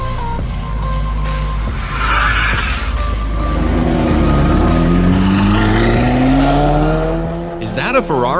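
A Ferrari F40 supercar revs and skids, with tires squealing in long rising and falling tones over a steady engine roar, loud and close, before a sharp burst at the end.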